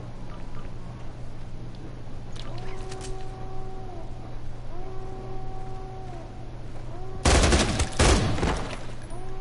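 An assault rifle fires a short dense burst in a zombies video game, loud and sharp against a steady game hum, after a few tonal chirps and faint clicks.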